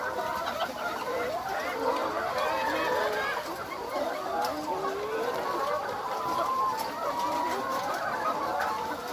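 Laying hens feed in a coop, a dense flock clucking and chattering steadily and close, with a continuous bed of overlapping bird calls and a voice now and then in the background.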